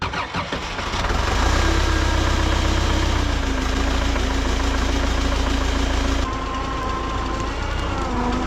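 An engine turns over and catches in cold winter conditions, settling into a steady, loud idle with a constant low hum and a slight drop in level near the end; no one speaks.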